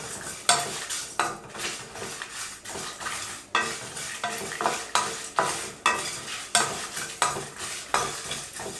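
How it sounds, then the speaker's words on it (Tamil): Cinnamon, cloves, cardamom, dried chillies, coriander seeds, mace and other whole spices dry-roasting in a pan on low heat, stirred with steady rhythmic scrapes and rattles, loud and close, with no talking. "சேர்த்துட்டு எல்லாத்தையும் கருகாமல் அடுப்பை குறைவான தணலில் வச்சு வறுத்துக்கோங்க."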